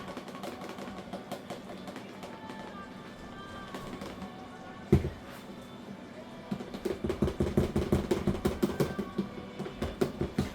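Thickening pancake-mix batter stirred in a pot for chicken and dumplings: a quiet stretch and one sharp knock give way to steady, rhythmic spoon taps and scrapes, close and moderately loud.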